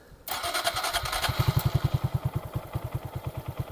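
A 2022 Honda Grom motorcycle engine cranks and fires up, then settles into a steady, close, thumping idle with a regular pulsing rhythm and no talking.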